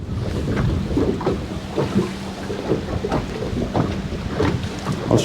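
Gusty wind buffeting a microphone on a fishing boat, a steady rumbling roar with irregular thumps and swells, close and continuous, no voices.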